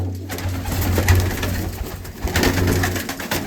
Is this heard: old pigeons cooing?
yes